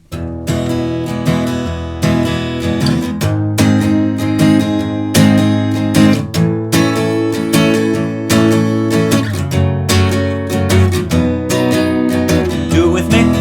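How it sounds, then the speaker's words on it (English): Acoustic guitar strumming the verse chord progression of a song in a down, down, up, down, up pattern, with rhythmic chord changes that ring loud and close throughout. "So the entire verse chord progression will sound something like this."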